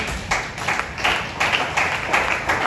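A church congregation claps in a steady rhythm during worship, the sharp repeated claps filling the room at a lively, even pace with no voices standing out.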